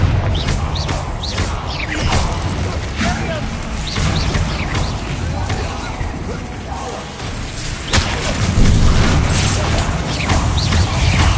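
Spells cast in a wizard video game, with a dense run of whooshes, mechanical clanks and booming blasts, loud and continuous, while a voice calls out between them.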